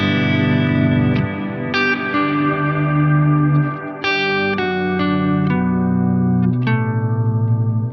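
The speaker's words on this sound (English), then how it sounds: "Definitely have reverb when I bring the POG in." An electric guitar played through a pedal board with a POG octave effect and reverb rings out sustained, layered notes and chords with octave doubling and long reverberant tails, one note after another, with no talk.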